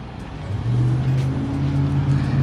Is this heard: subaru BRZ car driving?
yes